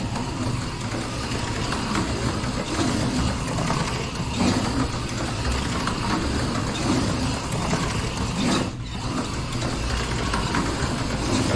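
Homemade PWM-controlled slot car running on its track, a dense continuous motor whine and mechanical rattle at close range, steady throughout with one brief dip, no talking.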